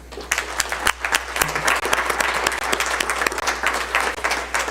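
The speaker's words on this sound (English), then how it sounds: "I invite everyone to join me in a round of applause" Audience applause fills a city council meeting chamber, a dense, steady roll of many hands clapping at close range that holds for the full stretch with no talk over it.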